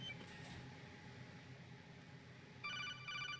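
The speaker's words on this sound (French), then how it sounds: "Téléphone." Codec call ringing in the video game Metal Gear Solid 2, a quick electronic repeating trill that starts late and pulses twice over faint background hum.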